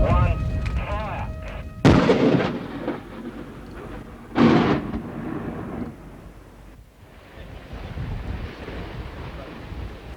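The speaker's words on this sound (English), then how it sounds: "using 420 tonnes of explosives and 7 kilometres of surface detonating cord, the 850-metre section of wall was blasted" A quarry wall, an 850-metre section in the Hunter Valley, is blasted with 420 tonnes of explosives and surface detonating cord. Two sharp, loud booms sound a few seconds apart, each followed by a long rolling rumble that fades into wind noise.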